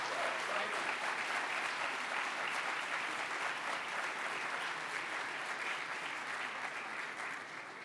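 A large audience at a political candidates forum applauds steadily after a speech, a dense, even wash of clapping that holds near-constant loudness and fades slightly toward the end.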